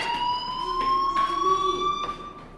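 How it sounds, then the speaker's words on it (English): Fire alarm ringing in the video game Life Is Strange, a steady high electronic tone with harmonic overtones sounding continuously, with faint pulsing bursts layered over it and no talking. "do you hear that fire alarm?"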